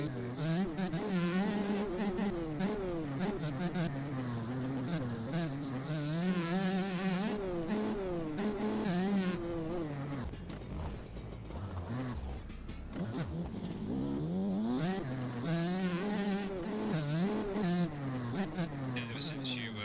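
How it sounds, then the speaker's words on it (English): A 250 two-stroke motocross bike engine in the MX Bikes racing game, a buzzy, high revving whine that climbs and drops through gear changes, with voices talking over it. "all I can ride is the 250 two-stroke"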